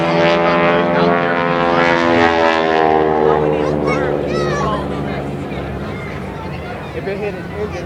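A biplane stunt plane's propeller engine drones loudly and steadily through a looping maneuver at an airshow, its pitch gliding, heard under an announcer's commentary.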